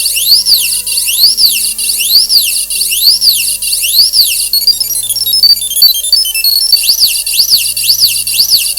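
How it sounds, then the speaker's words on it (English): A 3D-printed ESP32 sci-fi droid with an MQ-3 alcohol sensor sounds a loud, repeating electronic alarm of high sweeping siren tones over beeps and chirps. "the LEDs on the back react, and the Droid activates full alarm sequence"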